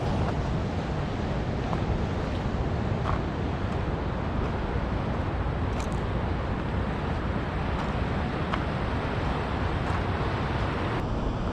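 Rough ocean surf crashing and washing against a rock jetty in Newport, Oregon, a continuous broad roar with gusts of wind buffeting the microphone and no voices.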